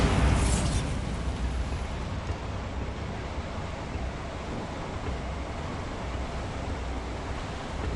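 A Bombarda spell explosion in Hogwarts Legacy bursts loudly at the start, then settles into a sustained, rumbling roar of debris and wash that stays loud and broad for several seconds without fading.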